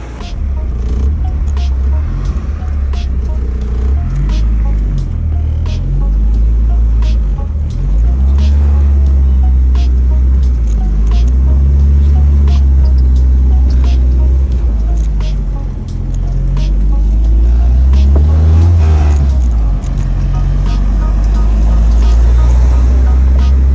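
A Mitsubishi Lancer Evo III with a turbocharged 4G63T engine and all-wheel drive runs on a test drive, a loud, steady low engine drone with shifting pitch swells as it accelerates, heard close from inside.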